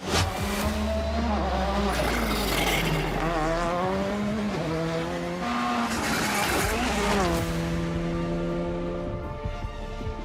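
A rally car races through a special stage at the Rallye des Vosges, its engine loud and close, revving hard through rising and falling gear changes with some tyre scrabble, while a voice talks faintly beneath.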